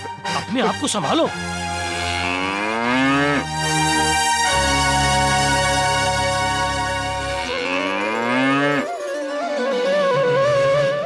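A bull named Gondiya lowing in a long, drawn-out moo that rises and falls, loud and close, with a voice speaking briefly over the start and dramatic background music underneath.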